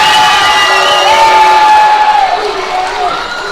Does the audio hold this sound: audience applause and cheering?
yes